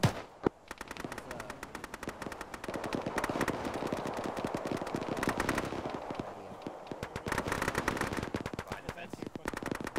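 Rapid machine-gun fire in the ArmA military shooter game, with dense bursts of overlapping shots crackling at mid distance in long runs, brief lulls between volleys, and players talking faintly underneath.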